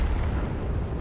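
Artillery shell explosion in World of Tanks, a single dense, heavy low boom lasting about a second, loud and close, with no talk over it.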